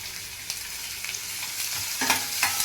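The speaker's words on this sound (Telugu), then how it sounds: "ఉల్లిపాయలు అలా వేగిన తర్వాత సన్నగా కట్ చేసి పెట్టుకున్న చిల్లీ ముక్కలు వేసుకోవాలి" Onions frying in a pan with finely chopped green chilies just added, a steady loud sizzle with a few sharper crackles and bursts near the end, no voices.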